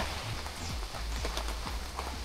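Rain falling on campers' tent and tarp setups at a camping event in Tagaytay, a steady pattering hiss with scattered heavier drops, moderately quiet and without talking.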